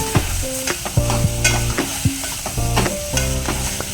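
Tomatoes being stirred into a frying onion masala in a pan for misal pav: steady close sizzling with repeated scraping stir strokes, with some tonal background music underneath.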